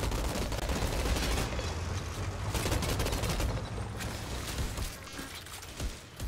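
Enemy gunfire in the shooter game Outriders, a dense continuous fusillade of rapid shots with crackling bursts, loud and sustained, tapering slightly near the end.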